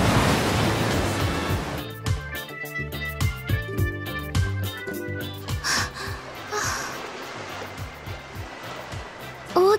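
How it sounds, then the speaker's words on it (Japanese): Ocean waves surge and wash in a beach scene from the game Dead or Alive Xtreme Venus Vacation, a loud roaring swell early that settles into rushing surf under background music, with a few bursts of splashing. "大きな波でしたね。"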